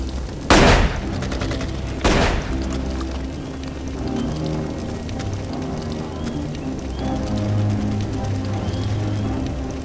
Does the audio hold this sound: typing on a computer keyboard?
no